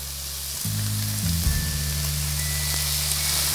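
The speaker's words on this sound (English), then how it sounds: "now we're going to add in the shiitake mushrooms" Shiitake mushrooms hit a hot pan with pork and fry in a steady, bright sizzle, with a clunk or two of stirring early on, close and continuous with no voices.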